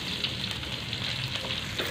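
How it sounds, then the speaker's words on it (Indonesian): Shrimp paste and shallots frying in hot oil in a home kitchen pan, a steady crackling sizzle that holds at even loudness throughout, close up, with no talking. "Kita goreng terasinya."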